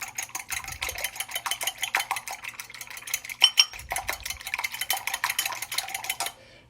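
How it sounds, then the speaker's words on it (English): A whisk beats eggs into a creamed mixture in a bowl, with quick, steady metallic clinks and scrapes that stop briefly midway and then resume before a clean stop. "I want to whisk these really, really good and add air to my mixture"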